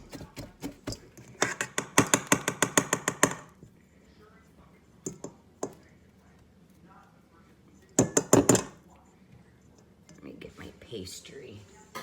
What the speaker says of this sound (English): I use your pastry cutter to mix this in.